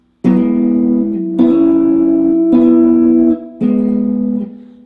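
Four clean, ringing double-stops on the 5th and 4th strings of an electric guitar play part of a tune, each attack sustaining about a second with slight pitch movement, heard alone and close.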